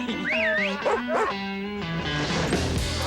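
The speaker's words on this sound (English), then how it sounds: "Puppy." A puppy in a TV commercial lets out a run of high, sliding yips and whimpering cries, close and fairly loud, with a muffled scuffle at the end.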